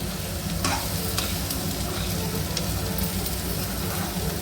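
Spiny gourd (boda kakarakaya) pieces stirred into a curry in a pan, soft scraping strokes over a continuous low sizzle, fairly quiet and close with no voices.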